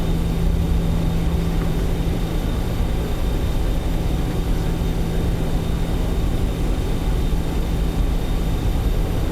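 Steady, continuous engine drone of a tiny four-engine jet aircraft in Microsoft Flight Simulator 2024, a constant broadband roar with a low hum, unchanging throughout with no voices.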